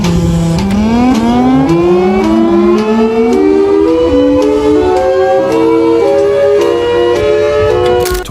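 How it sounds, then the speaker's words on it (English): A Thunderbolt 1003 siren winds up from a low growl into a loud, rising wail and holds at a high, steady pitch, with a faint repeating chop throughout. No one speaks. "Thunderbolt 1003."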